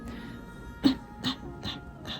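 Dogs passing by outside, with four short, faint yips or whimpers spaced roughly evenly over about two seconds against a quiet background, and no one talking.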